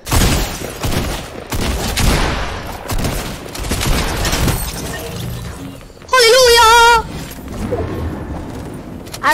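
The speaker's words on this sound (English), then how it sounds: "You're shooting at me!" Dense video game gunfire crackles in rapid bursts, loud and continuous, with a rising electronic warble cutting through partway and muffled voices underneath.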